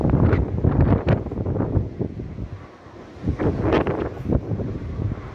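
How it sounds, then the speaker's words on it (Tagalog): Typhoon wind with no rain pounds the microphone in loud, continuous gusty buffeting that eases briefly in the middle before surging again. "Hangin lang rin talaga guys"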